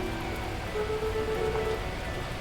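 Storm rain in the video game Beacon Pines falls steadily and evenly, a close, constant patter on surfaces with a faint tonal hum in the background.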